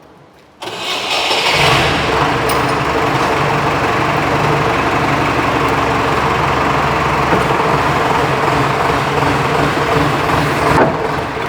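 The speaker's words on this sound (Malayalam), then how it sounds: "വണ്ടി സ്റ്റാർട്ടാക്കണമെന്ന് തോന്നുന്നു" A JCB's diesel engine cranks and catches on a house roofing job, then runs at a loud, steady idle close by for the rest of the time, with no voices.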